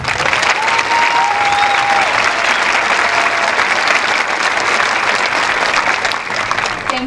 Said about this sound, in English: Let's signify our gratitude by a round of applause.